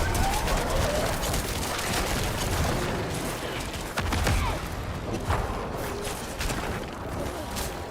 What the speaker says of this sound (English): The artillery try and help.